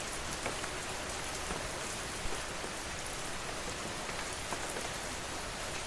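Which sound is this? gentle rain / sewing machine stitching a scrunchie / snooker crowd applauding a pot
gentle rain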